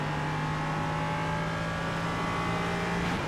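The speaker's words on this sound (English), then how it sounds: "Flat out as we go through turn 4." Ligier JS320 LMP3 race car in iRacing running flat out at Hockenheim, a constant loud high-pitched engine whine held steady at full throttle for the whole stretch, no talking.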